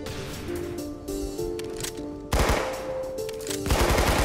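A Tommy gun firing in the Roblox game Arsenal, rapid automatic bursts that grow louder and harsher partway through, over a steady musical background with no talking.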